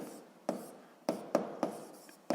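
Pen strokes write out a physics formula for hydrostatic pressure, giving five quiet, sharp scratches and taps spaced irregularly across a near-silent background.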